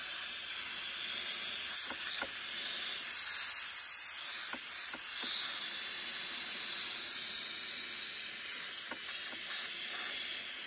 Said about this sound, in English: Right now I'm still just shooting steam at it, trying to heat it up.